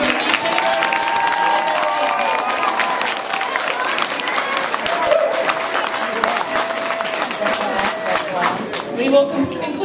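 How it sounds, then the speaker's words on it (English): An audience at a kindergarten graduation claps in a long, full round of applause, with scattered cheers and voices and some children's chatter mixed into the steady clapping. "let's have a round of applause"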